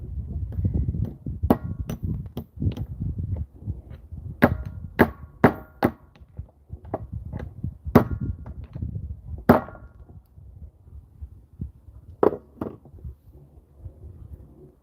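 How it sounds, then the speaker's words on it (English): Sharp metallic taps from a brass hammer striking a lock at a workbench, one at a time at an irregular pace, close by, with brief quiet gaps between hits. "I need a brass hammer so I'm not damaging other locks"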